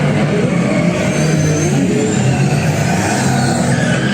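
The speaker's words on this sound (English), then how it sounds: "Roman, grab your truck" On a Universal Studios Hollywood ride, a truck engine roars loud and continuous, a steady revving drone that fills the whole stretch with no speech.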